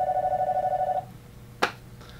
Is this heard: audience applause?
no